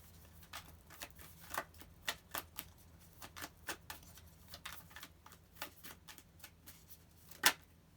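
Tarot cards being handled and flicked from a deck, a run of crisp, quiet snaps and taps at an irregular pace, with one sharper, louder card snap near the end.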